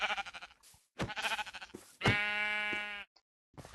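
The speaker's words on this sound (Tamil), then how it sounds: "வந்தோடனே நம்மளுக்கு ஒரு ஷீப் கிடச்சிருக்கு." A sheep in the Minecraft video game bleats in a few close, clear, wavering calls separated by short gaps, with no talk over them.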